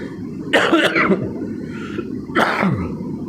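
Two harsh coughs, close and loud, separated by a short pause.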